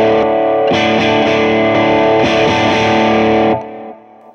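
A loud, saturated electric guitar amp breaking up as a boost pedal pushes it, with a few strummed chords ringing out thick and distorted before cutting off and decaying.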